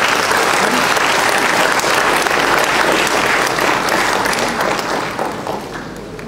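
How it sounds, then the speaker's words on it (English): Audience applause at a 2018 MIA AccTech conference launch: dense, loud clapping from a large room that holds steady, then tapers off toward the end. "put your hands together and give Ms. Rachel Grimes a round of applause"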